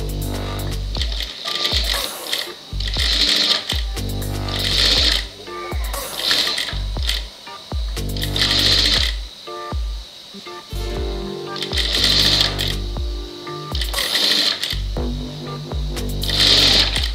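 A sewing machine stitching a blouse, including the sleeve, runs in loud repeated bursts of rapid mechanical stitching, stopping and restarting every second or two with a steady hum underneath.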